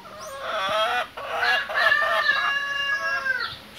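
Chickens on a small farm, including young broiler chickens raised for fattening, crow and cluck continuously close by, one rooster-style crow rising over steady clucking throughout, with no voices.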